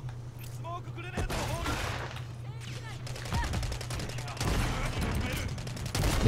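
Rapid gunfire bursts and single shots fill a Call of Duty: Modern Warfare 3 match, mixed with game effects over a constant low hum. A player's voice can be heard in parts.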